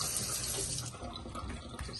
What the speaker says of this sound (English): Sprinkle a little bit of water